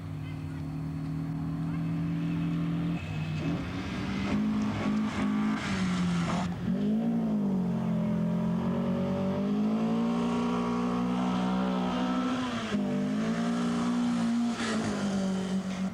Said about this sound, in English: Car 10, Jeff Vanderwall and Doug Wall of Vancouver, are making a strong run in their old-style Datsun 510.